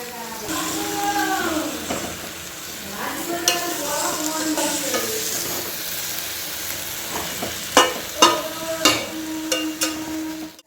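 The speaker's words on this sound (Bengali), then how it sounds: "এবার ধুয়ে রাখা শাকগুলো দিয়ে দেবো একটু সামান্য নুন দিয়ে দেব শাকটা নরম হয়ে যাবে" Washed leafy greens with a little salt sizzle and crackle in a hot pan, stirred with scraping strokes; steady frying noise throughout, with a few sharper clatters near the end and some background voices.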